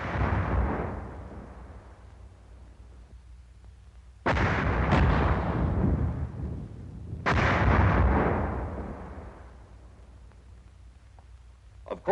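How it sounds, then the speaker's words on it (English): Mortar shells exploding on an infantry weapons demonstration range, two loud, sharp blasts a few seconds apart, each followed by a long rumbling decay over a low background roar. "Of course, an exploding mortar shell can kill"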